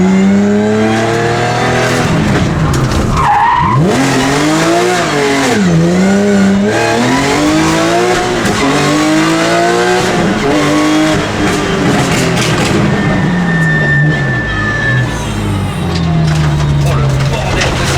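A Porsche rally car fitted with a pop-and-bang tune is driven hard on a track. The engine is loud and close, rising and falling through repeated revs, with possible tire squeal and voices faintly under the noise.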